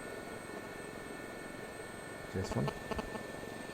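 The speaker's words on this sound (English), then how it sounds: "One day I will get used to flying this helicopter one day, I tell you." Gazelle helicopter in the DCS flight simulator, a steady whine of rotor and turbine with tonal hum lines, under a short burst of the player's speech.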